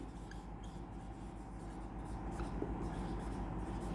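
Chalk or marker moves across a board as a calculation format is written out, giving faint, steady scratching and rubbing strokes close by in a quiet room.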